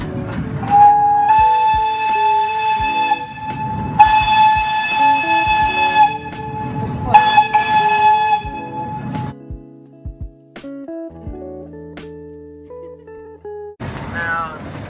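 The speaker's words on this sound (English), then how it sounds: "just like blowing my whistle at a railroad crossing" A loud steam train whistle sounds in several long sustained blasts with gaps between them, over chuffing and mechanical noise, then quieter clanks and tones follow.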